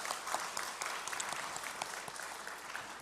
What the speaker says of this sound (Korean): 크신 하나님께 영광의 박수 올려드리겠습니다.